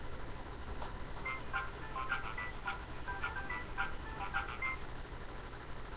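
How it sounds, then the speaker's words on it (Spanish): A faint, tinkly electronic carousel melody from a Pocoyo cartoon plays steadily, small and thin like a toy's music box tune, with no talking. "Y ahora la calecita."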